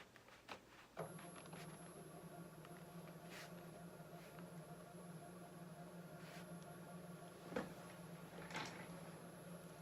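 A veterinary radiography reader pulls a phosphor plate through, starting with a clunk and then running as a steady mechanical hum and whir. Faint clicks and knocks sit over the hum, and nobody talks.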